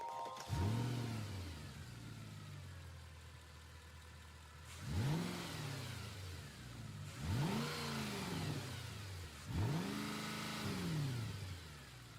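A Mercedes SLS sports car engine in a racing video game revs hard several times in a row, each burst rising sharply then falling back to a low idle.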